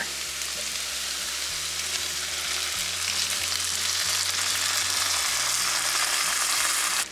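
Ground meat in about two cups of pasta sauce simmers in a pan with a steady, dense bubbling sizzle that holds even throughout, close and alone with no talking.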